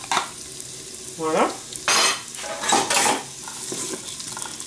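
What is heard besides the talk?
onion and garlic frying in Cookeo pot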